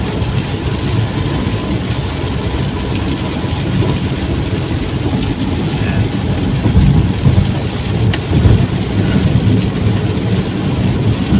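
Steady heavy rain from Tropical Storm Hilary in San Diego roaring without a break, with a deep low rumble underneath like distant thunder, loud and continuous.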